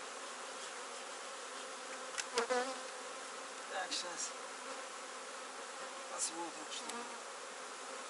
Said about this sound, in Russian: здесь пчелки выходят